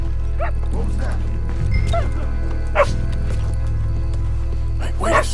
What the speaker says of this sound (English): Say hello to the dog and then follow him.